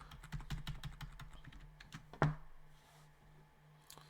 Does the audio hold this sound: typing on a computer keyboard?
yes